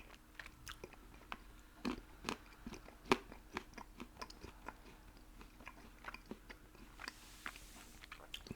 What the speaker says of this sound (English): Got lots of little crunchy bits in here.